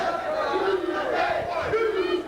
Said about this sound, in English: there's the crowd once again chanting for Doomsday